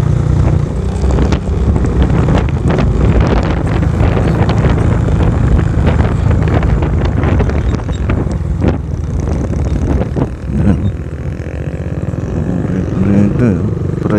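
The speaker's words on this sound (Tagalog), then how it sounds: "Mahangin dito." Steady, loud wind buffeting the microphone outdoors near Taal Volcano in Agoncillo, Batangas, a constant rushing roar with gusty surges throughout.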